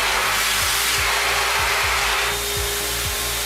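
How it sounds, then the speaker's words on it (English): A hand dryer blows with a steady, loud whooshing roar, running continuously without pause. Faint rhythmic low thumps sit beneath the airflow. "It's a hand dryer. You know the ones in public restrooms?"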